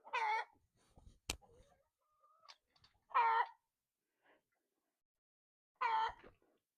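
Backyard chickens dust bathing outdoors make three short, quiet clucking bursts spaced a few seconds apart, with a sharp click and faint scattered sounds between them in otherwise calm surroundings.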